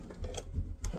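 Domestic sewing machine stitching a mesh tote bag, running a short backstitch of a few stitches: a quiet, steady mechanical whir with soft rhythmic ticking of the needle, close and continuous, with no voices.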